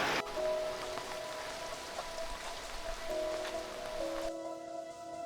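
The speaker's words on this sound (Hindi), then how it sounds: "बादलों की गरज और अचानक तेज बारिश।" Sudden heavy rain over a mountain campsite in Arunachal Pradesh pours down steadily as a dense hiss, with a tonal hum running beneath it, before cutting off abruptly near the end.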